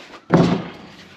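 The door of a dirty, uncleaned combine harvester slams shut with a single loud thunk, and a short reverberant tail dies away after it.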